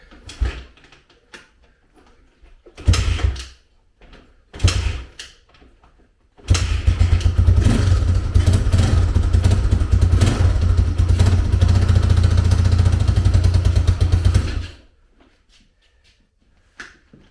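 A rebuilt 2000 Honda XR200R motorcycle starts for the first time: a few short kicks and sputters, then the engine catches and idles loudly and steadily for about eight seconds before cutting off.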